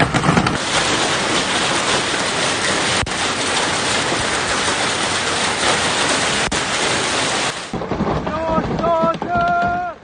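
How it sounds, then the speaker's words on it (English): Heavy rain pours in a steady, dense roar during a storm in the UAE for most of the clip, then cuts off abruptly, leaving faint tones and brief voices. "Heavy rain has continued to lash parts of the UAE on Monday evening"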